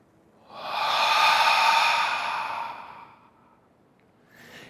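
A single long, breathy exhale during a yoga flow, rising quickly, holding for about two seconds, then fading away, close and clear against near silence, with a faint start of another breath at the end.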